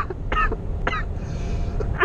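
A person coughs twice in quick succession inside a truck cab, short harsh bursts over a steady low engine rumble, followed by a faint third catch near the end.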